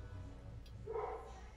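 A dog barking in the distance during a sauna session, a single muffled, faint bark heard against a steady background hum.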